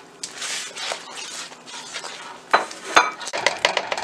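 Salt, chili powder, coriander and cumin powder and garam masala being stirred into chicken in a pan for butter chicken: a spoon scrapes and clinks against the pan, with a light sizzle and sharper knocks toward the end.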